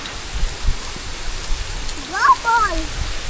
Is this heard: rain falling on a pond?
yes